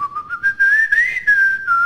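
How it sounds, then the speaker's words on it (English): A person whistles a short melody with a clear, bright, sliding tone, close and loud, broken into a few quick phrases with no talking. "Whenever I walk around and I whistle at all, I whistle the same melody."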